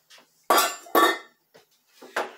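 Spatula scraping a mixing bowl of proofed dough and eggs: two loud clattering scrapes close together, then softer scuffs and one more firm scrape, with no talking.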